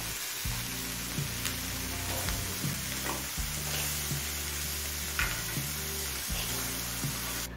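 Eggplant and onion flower stalks fry with spices in a pan, giving a continuous crackling sizzle broken by scraping stir strokes that recur every second or so, close by with no talking.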